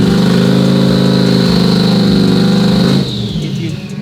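A turbocharged C8 Corvette held on the brake in launch mode with rolling antilag drones at high, steady revs, loud and close, then the engine note drops away sharply near the end.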